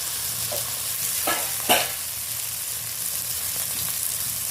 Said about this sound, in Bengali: আদা বাটাটা দেওয়ার পরে আরও ভালো করে নাড়াচাড়া করে নিচ্ছি